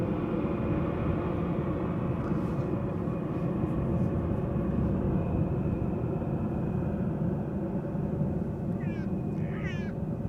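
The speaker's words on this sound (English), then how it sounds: "The Orange Pride is flying as KLM Flight 592, arriving from Johannesburg" A KLM Boeing airliner arriving at Amsterdam Schiphol makes a steady, loud broadband engine roar that holds throughout, with a few brief higher chirps near the end.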